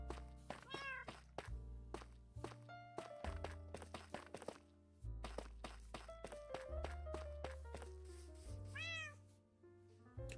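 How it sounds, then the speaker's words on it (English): A cat meows repeatedly in clear, rising and falling calls, close and distinct, mixed with soft thumps and footsteps against a game soundtrack with tonal music. "Kitty cat, for the love of Pete."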